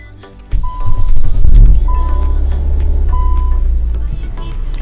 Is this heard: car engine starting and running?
yes